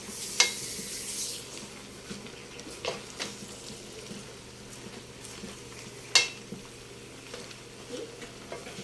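Chopsuey is stirred in a pan with a soft, low sizzle underneath. A few sharp utensil scrapes and clinks stand out at uneven moments, close by and fairly quiet.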